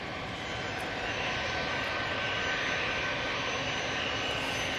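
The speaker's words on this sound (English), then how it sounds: "Off to Inverness we go with this Bombardier Challenger 350." A Bombardier Challenger 350 business jet taking off from Manchester Airport, bound for Inverness, produces a constant, fairly distant engine roar that holds steady and unaccompanied throughout.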